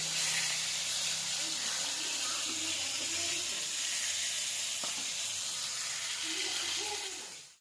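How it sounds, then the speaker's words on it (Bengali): Fish fries in a pan with a steady, close hiss and sizzle that holds evenly throughout before cutting off abruptly, with faint voices underneath. "মাছ ভাজাটা দেখো হয়ে গেছে প্রায়, আর একটুখানি হলেই হয়ে যায়।"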